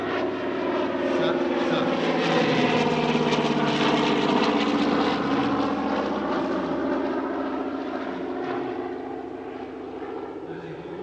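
A Douglas C-47 propeller aircraft built in 1945 drones loudly overhead at an airshow, with a steady, heavy engine roar that slowly swells and fades while a voice speaks over it.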